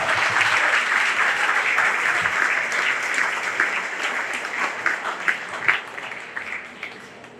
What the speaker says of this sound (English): Give her a round of applause back there.